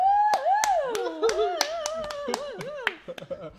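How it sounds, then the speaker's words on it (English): A few people clap in sharp, separate bursts on a comedic nightly show, nearby and distinct, while someone speaks in an animated, sing-song voice throughout. "I like applause. Applause is good."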